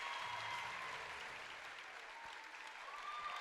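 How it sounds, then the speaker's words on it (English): Steady, dense applause from a crowd at a high school cheerleading championship, greeting the NFA Wildcats' routine; continuous clapping and cheers with no pauses, fairly loud and filling the whole stretch. "And the crowd loves it."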